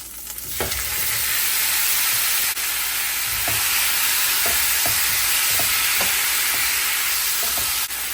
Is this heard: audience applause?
no